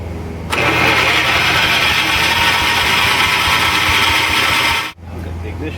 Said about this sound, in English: I'm going to crank this over a few times without the ignition hooked up